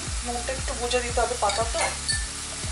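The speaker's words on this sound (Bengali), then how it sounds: "ডাটাটাকে একটু এক দু মিনিট একটু ভেজে নেবো" Vegetable stalks fry in a pan with a steady, close sizzle, broken by repeated scraping stirs in an even rhythm, while someone speaks briefly over the cooking.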